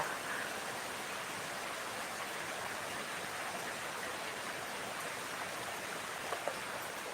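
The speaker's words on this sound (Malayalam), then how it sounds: "മഴയാണ് മഴയാണ് ഭയങ്കര മഴയാണ് രാവിലെ തൊട്ടേ ഇവിടെ മഴയാ" Steady heavy rain in Palakkad, Kerala, a dense even hiss of falling water that holds without a break throughout, fairly faint and with no voices.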